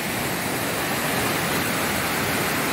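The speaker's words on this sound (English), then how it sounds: "So this is Lower Bertha Falls." Lower Bertha Falls, a waterfall on a spring hiking trail, heard up close as a loud, constant broadband roar of rushing water with no other sounds.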